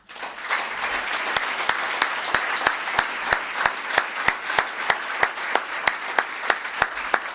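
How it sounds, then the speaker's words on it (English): Applause at a senior student-athlete awards banquet: a room full of steady clapping, with one clapper close by striking loud, evenly spaced claps that stand out above the crowd throughout. "How about a round of applause for Mez and Chris?"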